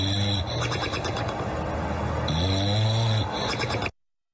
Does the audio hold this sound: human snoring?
yes